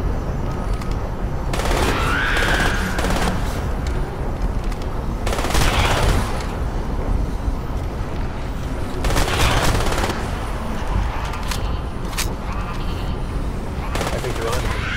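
Heavy automatic gunfire from shooting in the video game Crysis, dense sustained bursts that swell and fade over a constant loud backdrop, with a spoken voice mixed in.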